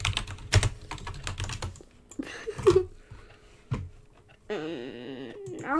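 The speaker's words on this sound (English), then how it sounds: "now to hear typing noises" Computer keyboard typing during a Roblox game stream, scattered keystrokes mixed with game sounds and a brief voice, uneven and moderately close.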